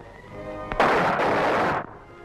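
A gun salute volley fired in a 1945 film, heard as a sudden loud blast of rifle fire that rolls on for about a second before cutting off sharply, following a single brief shout.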